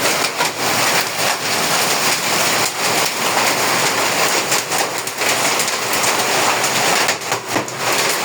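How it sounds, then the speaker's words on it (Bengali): A heavy hailstorm in Ashulia, Zirabo, with hailstones pelting down steadily outdoors near a stairwell, a dense, loud and continuous rattling wash with no talking. "ওই যে নিচে দেখতে পাচ্ছেন কি পরিমাণ পাথর পড়তেছে।"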